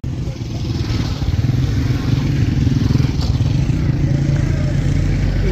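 Motorcycle engine running steadily on a mountain road near Kalam in Swat, a close, loud low rumble with a continuous throbbing putter and no talk over it.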